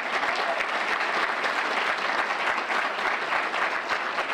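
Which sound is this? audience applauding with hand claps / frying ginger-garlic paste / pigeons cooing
audience applauding with hand claps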